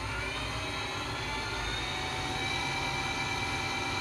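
An MA-2500 series high speed precision lathe runs at 242 RPM, giving a steady, even machine hum and whine that continues unbroken with no talk.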